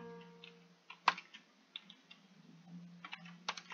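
Typing on a computer keyboard, quiet scattered keystrokes and space bar taps in an irregular rhythm, with one sharper click standing out early, heard close and without speech.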